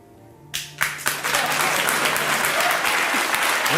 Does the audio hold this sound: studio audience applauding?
yes